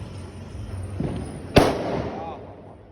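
Diwali firecracker going off as one sharp, loud bang at mid-clip, followed by a fading crackle and rumble, with people talking throughout.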